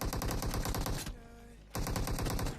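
Rapid automatic gunfire in the mobile battle-royale game PUBG Mobile, loud and rhythmic bursts that break off for a moment of quieter tones before resuming just as fast.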